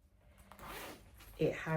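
A zipper is pulled in a quick rasping stroke close by, with a voice speaking around it.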